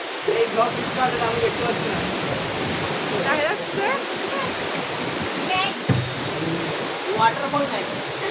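A waterfall near Phuentsholing in Bhutan roars as a steady broadband rush of falling water, with people chatting intermittently nearby.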